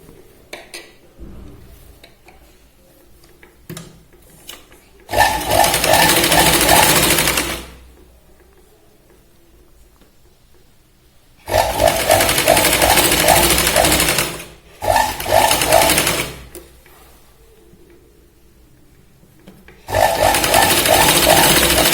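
A sewing machine stitches a boat-neck kurti in four separate runs of rapid, loud mechanical whirring, each lasting a few seconds, with near-silent pauses between them.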